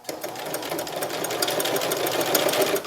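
A sewing machine stitches the mouth onto a stuffed bat pillow using a wide zigzag or quilting stitch set to width 7, giving a steady, close mechanical whir that runs without pause and with no voices.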